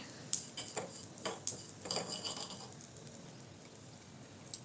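Mustard seeds roast in a pan, giving scattered sharp pops and crackles, several distinct bursts early then sparser, with faint scraping of a stirring utensil, fairly quiet and close.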